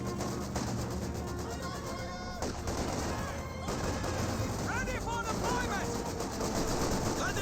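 A captured Vickers machine gun firing in the Company of Heroes 2 battle game, steady rattling fire mixed with other battle noise and whistling shells, and a voice commenting throughout.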